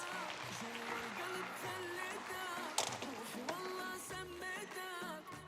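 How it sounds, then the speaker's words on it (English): Applause for performers at a children's Saturday show with an Egyptian mummy theme, a dense steady wash of clapping over tonal music that runs throughout. "give them a round of applause"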